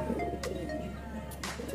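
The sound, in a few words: pigeon cooing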